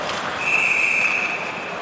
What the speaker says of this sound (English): we got a whistle, hand pass called